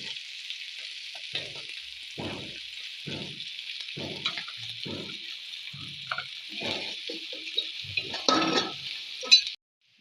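Crushed garlic fries in virgin coconut oil with a steady, bright sizzle throughout, close up, while a few faint stirring knocks and brief low sounds come and go beneath it.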